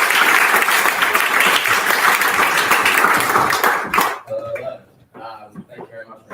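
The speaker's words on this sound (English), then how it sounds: "can we get a big round of applause for our next demo" A live audience at a London demo night claps in a dense, sustained burst of applause for about four seconds, then it stops abruptly and a voice starts speaking.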